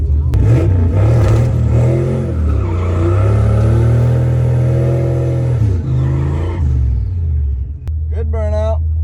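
A turbocharged Ford Fox-body Mustang does a burnout at the Ford Fever Classic drag event: a loud, close engine roar holds at high revs for several seconds, then drops and bursts again briefly near the end.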